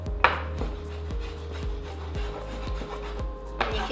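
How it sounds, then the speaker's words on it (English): A kitchen knife chops a cold-remedy ingredient into small pieces, a steady run of close, crisp strikes about three per second with a scraping rasp between them, with no talking. "keep chopping until it's kind of small"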